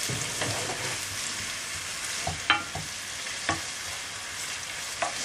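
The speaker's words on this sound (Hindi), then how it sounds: "बाद में 2 इंच चिली बारीक कटी हुई ऑनियन, इसको हमको अच्छी तरह से भूनना है।" Finely chopped onion and chilli fry in a pan with a soft, steady sizzle, broken by a few light scrapes and taps of the stirring spoon; no voices.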